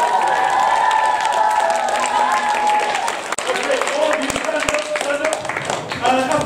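An audience at a children's nativity play breaks into loud, sustained applause, with voices and excited children's shouts rising over the clapping.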